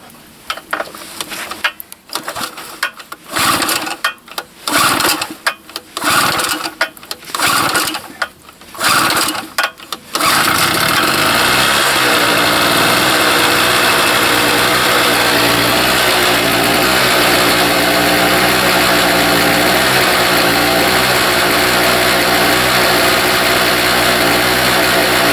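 Small HF generator after a blizzard, first several rough pull-start attempts in quick bursts over ten seconds, then the engine catches and settles into a loud, steady idle for the rest.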